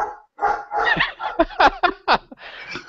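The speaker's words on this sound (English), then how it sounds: "shut that dog up!" A dog barks and yips in a rapid series of short, loud, close barks with brief gaps between them.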